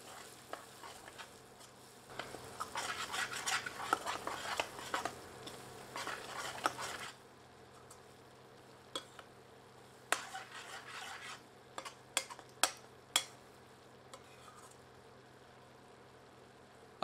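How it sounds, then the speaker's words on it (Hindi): Lamb curry with red chilli powder, salt and turmeric is stirred in a pan over medium heat, giving soft sizzling with bursts of scraping and rubbing strokes, then sparse sharp clinks, close and fairly quiet, with no talking. "सबको मिलाकर 1 मिनट मीडियम हीट पर कुक करते हैं।"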